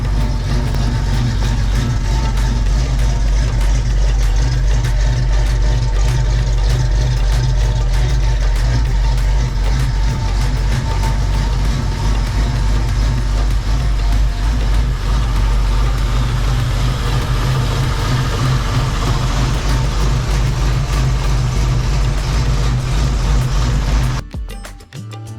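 A 1973 Comet Maverick engine idles steadily for about twenty-four seconds, a deep, even rumble with a constant low drone, then cuts off abruptly near the end.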